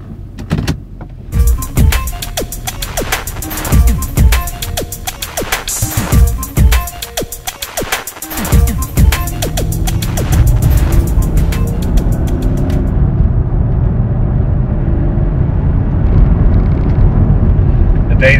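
A Mercedes C43 AMG engine fires up loudly and settles into a steady, close drone as the car pulls away, with a voice speaking over the start.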